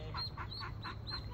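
A group of ducks being moved quack in a quick, repeated series of about five calls, close and fairly loud over steady outdoor background noise.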